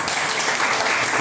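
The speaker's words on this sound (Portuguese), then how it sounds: "Vamos receber esse servo de Deus aplaudido ao Senhor." Congregation applauding in a church worship service, a dense, steady wash of many hands clapping at full volume throughout the brief moment, with no voices standing out.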